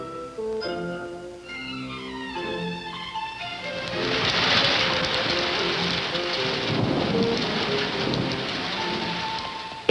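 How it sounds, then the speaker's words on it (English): Heavy jungle rain pours down loudly with a dense steady hiss, rumbling thunder underneath, after a few soft musical tones at the start. "It's raining. It's raining hard."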